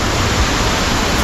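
A waterfall in the Buttermilk Falls gorge at Buttermilk Falls State Park near Ithaca pours in a loud, close, unbroken rushing roar that fills the whole clip with steady white noise.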